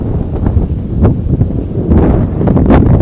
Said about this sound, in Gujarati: જોરદાર પવન પણ છે